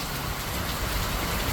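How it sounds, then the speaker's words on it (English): Hard rain pouring steadily in a dense, even broadband hiss, close and loud throughout the short stretch, with no voices. "Ah, it's raining."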